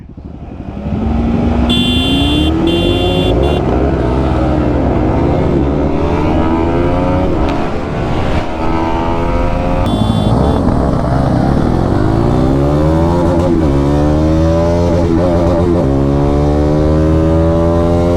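Motorcycle engines from a Yamaha R15, MT-15, Pulsar NS250 and N250 in a drag race revving loudly and continuously, pitch climbing and dropping through the gears, with a few short horn toots up close.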